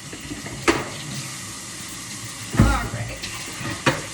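Tap water runs into a kitchen sink while a greasy cooking item is washed, a steady close splash with a few louder bursts and clunks, and a brief spoken remark over it.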